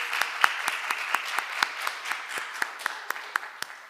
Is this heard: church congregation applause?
yes